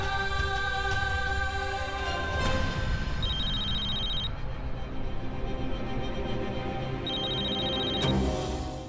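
A mobile phone rings inside a house, its electronic ringtone repeating in two bursts over a loud background of music and room noise.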